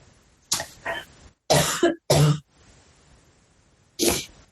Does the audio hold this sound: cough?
yes